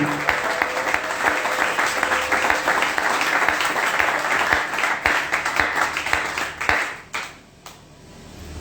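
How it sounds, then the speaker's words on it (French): A church congregation at a French-language worship service bursts into loud, sustained applause and clapping that stays dense for several seconds, then thins and fades out toward the end. "Est-ce qu'on peut glorieusement acclamer pour le nom de Jésus?"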